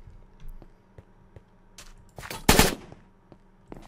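Gunfire in the Minecraft mod CounterCraft, a Counter-Strike style shooter: faint scattered clicks and shots build into a loud, dense burst of rapid automatic fire near the middle, then fade back to sparse taps.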